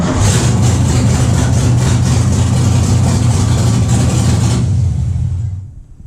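A gasser car engine runs loud and close with a deep, rumbling idle and a busy mechanical clatter, then cuts out near the end and falls to quiet.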